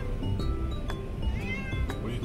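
A cat meows repeatedly, several short mid-loud calls in a row, over a dense low background rumble indoors.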